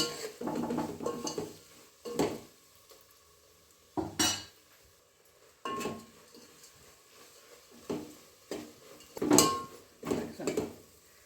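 Vegetables stirred in oil in a pan for a Maharashtrian khobar chi bhaji produce a series of separate scraping clatters of a utensil against the pan, with a faint sizzle between the quiet gaps.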